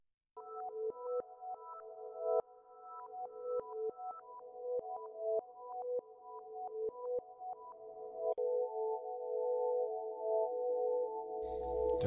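A reversed sample plays: repeating tones that swell up and cut off abruptly in a steady rhythm, then a sustained chord with a sudden low thump at the end.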